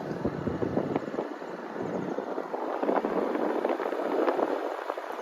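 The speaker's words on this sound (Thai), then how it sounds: "ถ้าพี่ๆได้ยินเสียงลมนะครับผม" Steady wind buffets the microphone in a continuous rough roar on an outdoor ride along a rural road, loud and unbroken for about five seconds with no speech.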